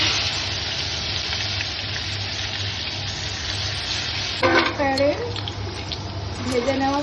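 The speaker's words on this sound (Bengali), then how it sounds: "শুকনো লঙ্কা ফোড়ন দিলাম, একটু গোটা জিরে দিচ্ছি, আর মশলাটা দিয়ে দিচ্ছি।" Dried red chilies, whole cumin and spices sizzle in hot mustard oil, a steady dense hiss throughout, with a short whistling or squeaking tone partway in.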